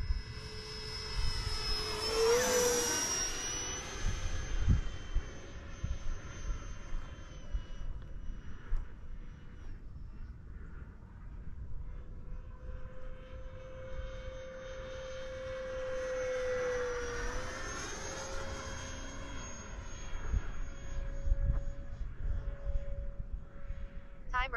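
An RC Viper jet model airplane flies overhead, its turbine whine rising and falling in pitch as it makes two loud passes, with a steady tone and broadband roar throughout.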